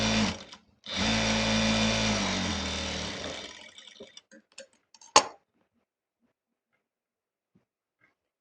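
A sewing machine stitching churidar fabric runs in one fast, buzzing burst of about two and a half seconds, then trails off into a few small clicks and quiet.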